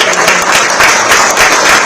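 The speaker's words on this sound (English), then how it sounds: "let's give this panel a big round of applause" A panel audience at a New York City real estate expo at Citi Field gives a loud, dense round of steady applause that fills the whole moment with no voice on top.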